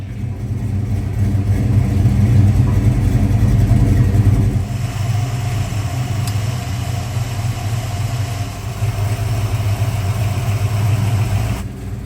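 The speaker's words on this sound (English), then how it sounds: "it was time to fire up the 55 and start charging the air conditioning system" A 1955 Chevrolet Bel Air idles with a deep, steady rumble close by, slightly heavier for the first few seconds before settling into a smooth, even idle with no talking.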